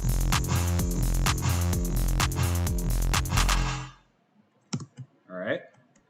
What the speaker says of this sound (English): if we have those 2 claps on the last 2 16ths of the measure, we get a nice turnaround